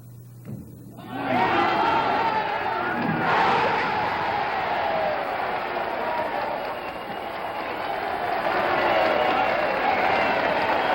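A bowling crowd erupts in loud cheering and applause after a decisive ball for a $10,000 prize and a new Cougar, a sustained roar of voices and clapping that swells and holds for many seconds.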